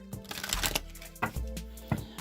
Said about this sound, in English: one more shuffle and we'll get that final card for you